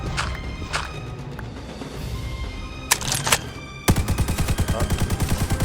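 Gunshots ring out in a modded Minecraft war game, a few scattered cracks at first, then a rapid run of repeated shots in a steady rhythm, loud and close, with no voices over them.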